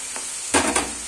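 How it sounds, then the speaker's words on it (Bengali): Brief sizzling from a hot pan as grated carrots fry for carrot halwa, with a quick burst of frying and stirring that rises and fades within a second. "একটু সময় লাগবে, কিন্তু ভালো করে ভেজে নিতে হবে।"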